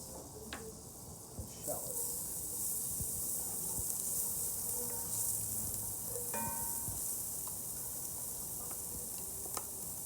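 Shallots sizzle in melted butter in a pan, a steady bright frying hiss with small pops and occasional clinks, running under quiet talk.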